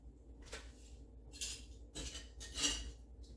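A spoon scrapes and clinks against a pan while a caramel nut popcorn mixture is stirred, in three or four short, quiet strokes with pauses between them, and no one speaks.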